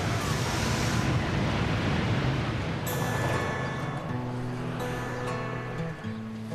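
Ocean waves surge and break against a jetty in a steady, loud roar of surf, with a sustained tonal drone joining partway through.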